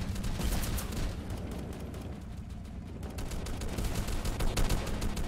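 Rapid gunfire from the Roblox game Base Battle, dense crackling bursts running continuously at steady loudness with no talk.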